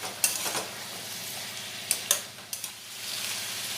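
Pointed gourd and cut potato stirred in a frying pan, with a soft steady sizzle and a few sharp scrapes and clinks of the spoon against the pan, close and fairly quiet, no talking.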